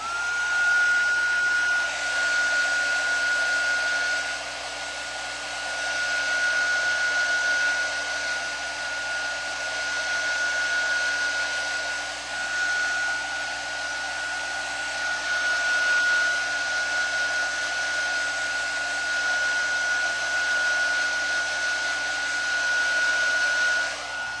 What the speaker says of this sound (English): I'm just going to dry off some of these dots, and I'm going to try not to blow all my stuff off.